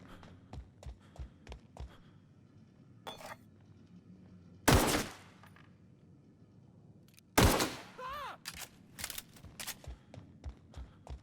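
Gunfire in the sci-fi video game The Outer Worlds: a run of quick sharp shots at the start, then two loud heavy blasts followed by a further burst of rapid close shots, with no talk.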